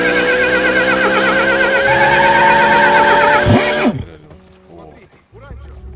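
A horse neighs in the video game The Last of Us: a loud, wavering whinny rises over a steady engine-like drone, then cuts off, leaving softer background sounds as people talk.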